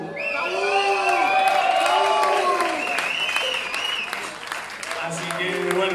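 A blues concert crowd applauds loudly while whoops, cheers and shouted voices rise over the clapping, the din holding steady for the whole stretch.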